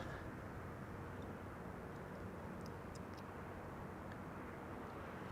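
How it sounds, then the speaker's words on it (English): Croatia Airlines Airbus A220-300 (Bombardier C-Series 300) arriving at Amsterdam Schiphol on Flight 450 from Zagreb, a steady broadband jet roar holding evenly throughout with no talk, the airliner fairly distant. "This is an A220 Bombardier C-Series 300 Croatia Airlines Flight 450 arriving from Zagreb."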